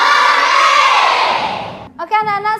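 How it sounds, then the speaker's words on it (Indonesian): Schoolchildren in a classroom cheer and shout hooray together, a loud sustained crowd yell that breaks off into a few short excited shouts at the end. "Angkat kedua tanganmu lebih tinggi, teriak hore."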